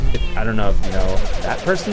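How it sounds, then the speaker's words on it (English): An old cat meows indoors, a few short, clear meows mixed in among a person talking close by. "that's the cat that lives here."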